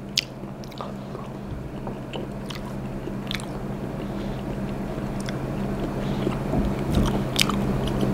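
Close, moist chewing of week-aged yellowtail sashimi, with soft squishy bites and faint clicks over a steady low background hum, with no talking.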